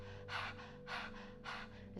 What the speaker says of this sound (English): Begin by sticking out your tongue and panting like a dog.